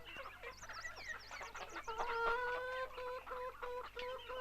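Chickens on a farm cluck and squawk close by in a busy, irregular flurry, with one bird letting out a longer, drawn-out call partway through.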